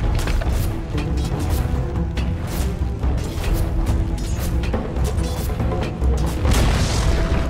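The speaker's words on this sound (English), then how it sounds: "Dire's bottom tower has fallen." A tower crumbles in the multiplayer battle game Dota 2, heavy booming crashes and rumbling impacts rolling on for several seconds, loud and dense amid other game clatter.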